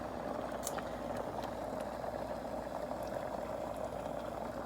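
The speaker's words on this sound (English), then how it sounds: "I can hear little bubbles." Spinach and rice in a pot on the stove, a steady close bubbling and simmering hiss that stays even throughout, with no talk.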